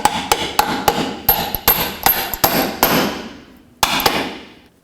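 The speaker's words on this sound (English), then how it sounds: "I'm going to drive it in with my hammer." A hammer drives a bolt through a strut fork bushing on a 2004-2008 Acura TL, giving a quick run of close, sharp metallic clanks that ring out, then a brief gap before two final blows.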